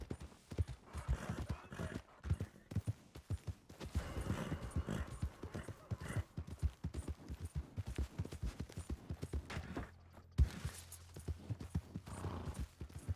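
Horse hooves clip-clop in a steady, fairly quiet rhythm in the Red Dead Redemption 2 game, with a brief whinny breaking in partway through.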